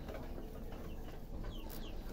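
Hens clucking softly around a backyard laying area where they scratch and hide their eggs, a few short calls rising over steady rustling ground noise, fairly near and without talk.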